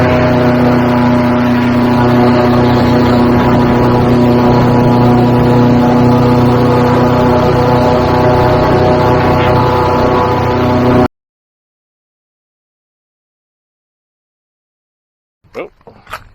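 An airboat on Florida's Space Coast runs at a loud, steady engine drone with a strong low hum for about eleven seconds, then goes silent, followed by a few faint brief sounds.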